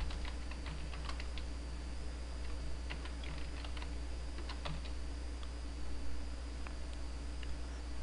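Text typed on a computer keyboard, light rapid key taps in bursts with short pauses, over a steady low hum and hiss.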